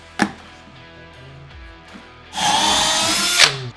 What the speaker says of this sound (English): So we'll go ahead and drill the six pocket holes.